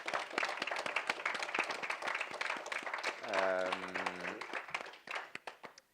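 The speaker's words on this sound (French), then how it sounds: "Je pense qu'on peut vraiment vous applaudir bien fort." Audience applause at a literary talk and book event, dense sustained clapping from a seated crowd with a brief voiced sound partway through, then thinning to a few scattered claps before fading out.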